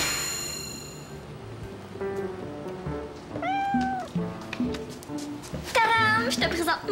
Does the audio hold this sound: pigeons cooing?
no